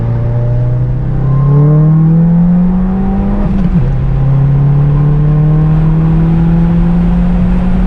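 A stage 2 VW 2.0 TSI wagon accelerates hard close by, a steady engine drone rising in pitch through the gears with a brief shift break, loud and alone without talk.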